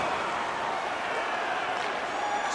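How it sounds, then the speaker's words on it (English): Steady broad crowd murmur fills an NHL 22 ice hockey video game arena after a save, a dense continuous buzz of spectators at even loudness with no talk. "Oh, and that's got the crowd buzzing after that stop."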